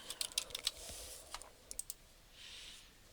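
Someone types a search term into the PsycInfo research database on a computer keyboard, with quick, faint clusters of keystroke clicks separated by short pauses in a quiet room.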